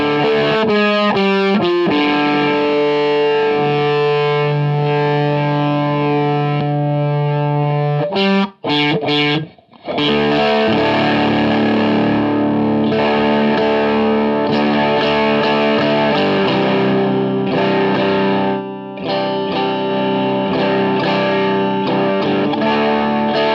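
Heavily fuzzed electric guitar through an MXR Classic 108 Mini Fuzz pedal with its buffer switched off plays a long riff of thick, saturated chords and notes, loud and continuous apart from a couple of brief gaps.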